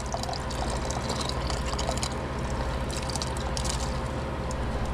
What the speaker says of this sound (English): we're gonna add the corn, sweet corn from the can